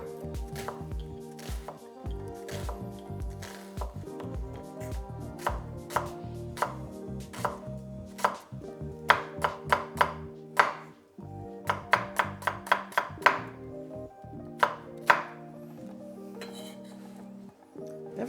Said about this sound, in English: first we deal with the onions. Fine dice, nothing crazy, and nothing too coarse